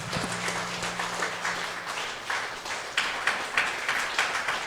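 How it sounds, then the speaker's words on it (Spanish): A church congregation claps for the Lord during a Spanish-language service, a steady wash of hand claps with rhythmic surges, fairly loud and continuous, over a brief low hum at the start. "Dale un fuerte aplauso al Señor"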